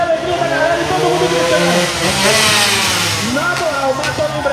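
A motorcycle engine revs hard at an outdoor moto show, its pitch rising and falling in sustained roars while an announcer talks loudly over the crowd.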